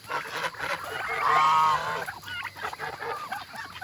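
Geese or ducks honking loudly while being fed, with overlapping calls that swell to a peak around the middle and then continue in broken bursts.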